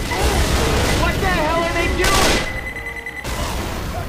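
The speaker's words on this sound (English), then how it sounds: "Throwing a pipe bomb." Gunfire and a pipe bomb blast in Left 4 Dead 2 make a loud, dense barrage of shots, with a bright burst around the middle and a brief drop before the firing resumes, under a voice.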